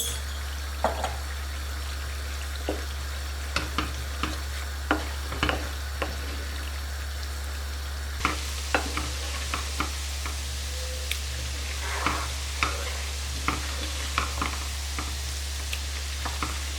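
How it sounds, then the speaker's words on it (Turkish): Lean minced beef, salted, stir-fries in a pan with a steady soft sizzle. Scattered light clicks and scrapes of stirring run through it, with no talking. "Şimdi kıymamızı kavurmaya devam ediyorum."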